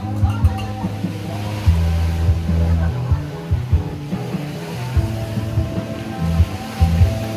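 Steady wind roars across the microphone with surf rumbling beneath, loud and continuous, with occasional gusty buffeting, at Punta Beach.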